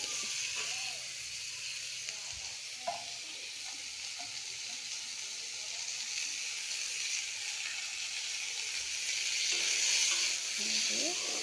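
Raw mango pieces fry with black mustard seeds in a pan for a home lunch, giving a steady, fairly loud sizzle with occasional scrapes of a stirring spoon throughout.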